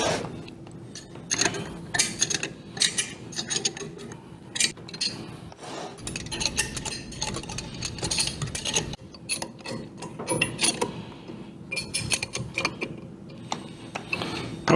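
Actuator mounting nuts are tightened on a Triac actuator mount with a wrench, giving quiet repeated ratcheting clicks and metallic rubbing in uneven bursts, close by, with no talking.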